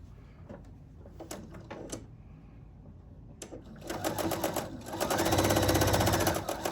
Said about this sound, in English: I'm going to go ahead and sew the other top half.